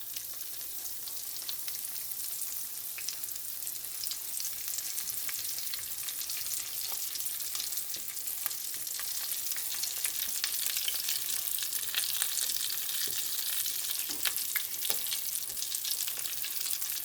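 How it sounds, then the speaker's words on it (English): Breaded cod fries steadily in hot oil, a dense continuous sizzle with scattered crackles and pops, close and even throughout with no voices. "then I'm going to put it into the oil"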